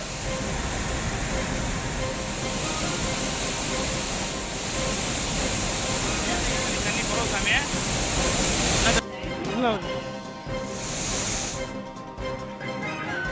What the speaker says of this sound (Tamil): தேனியில் உள்ள சுருளி அருவி மற்றும் மேகமலை அருவியில் தொடர்ந்து வெள்ளப்பெருக்கு ஏற்பட்டுள்ளது